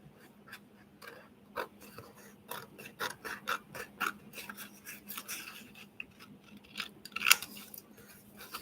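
Scissors snip through recycled envelope paper while coin envelopes are being made, a series of short, crisp cuts in an irregular rhythm. The cuts are close and fairly quiet against a low background hum, with no talking.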